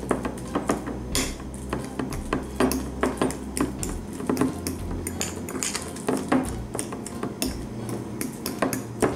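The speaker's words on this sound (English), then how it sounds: "And just mash it as if you were, I guess, preparing a banana for a baby or something." A fork mashes a banana on a plate for an Elvis sandwich of peanut butter, banana and bacon, giving a steady run of close, soft squishes and light metallic clinks and taps against the dish, with no talking.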